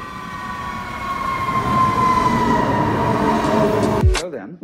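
A Stuttgart S-Bahn train on the S60 line rides along with a steady, loud rolling rumble and a sustained whine. The noise cuts off abruptly near the end, when a voice briefly speaks.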